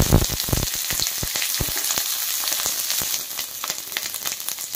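Bay leaf and onion fry in hot oil in a home kitchen, a continuous close sizzle with scattered crackles and pops, loud at first and then steady, no talking.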